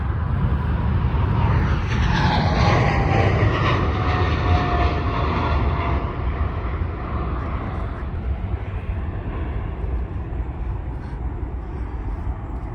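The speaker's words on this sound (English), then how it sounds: "I see these giant airplanes taking off" Giant jet airplanes taking off roar steadily, a broad loud engine rumble with a whining tone that swells early and then eases slightly as it holds on, with no talk over it.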